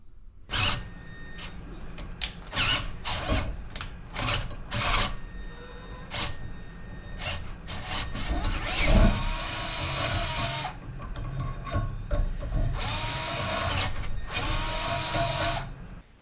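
A power drill bores a hole for an alternator mount on a 1961 International Harvester B-163 bus, in loud repeated bursts of whining that start and stop, with longer sustained runs near the middle and end.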